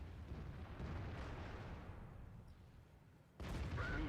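A tank gun fires in World of Tanks as a deep, booming blast that fades into a rolling rumble, followed by another sudden loud burst near the end, all fairly quiet overall.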